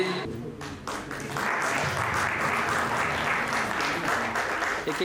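An audience of panchayat secretaries and colleagues applauds guests at a farewell event at a training institute in Ranchi, a broad, sustained wash of clapping that swells and holds at moderate volume in a large room.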